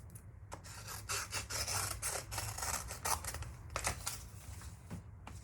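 Scissors cut close around small mask material in quick, repeated snips and rustles, a faint, steady crunching texture heard up close with no talk.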